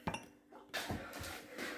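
Dishes and cutlery clink as they are lifted out of a dishwasher, with a sharp knock at the start, then a louder burst of rattling, clattering handling noise near the microphone.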